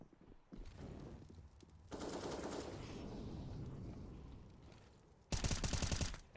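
Rifle fire in a Counter-Strike match on the Nuke map at an ESL tournament qualifier, with a long continuous burst of game gunfire and a louder, sharper burst near the end.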